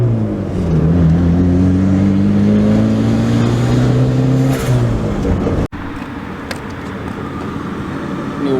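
A Honda Prelude with a rebuilt turbocharged F20B engine runs up close, revving with a rising, wavering pitch before settling into a steady idle, broken by one sharp click; no one speaks.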